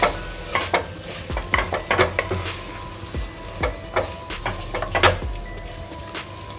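Minced keema frying in a pan for a dum-style keema biryani, stirred with repeated scraping strokes over a steady sizzle and a few clinks of utensil on metal, close and alone with no talk.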